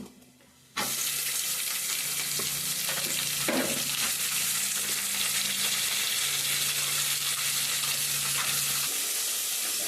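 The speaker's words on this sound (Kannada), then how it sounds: "ಪೇಸ್ಟ್ ಹಾಕಿ ನೀಟಾಗಿ ಈ ಥರ ಫ್ರೈ ಮಾಡ್ಕೋಬೇಕು" Ginger garlic paste fries in a hot pan with a loud, steady sizzle that starts abruptly and holds for several seconds, with faint stirring scrapes underneath and no talking.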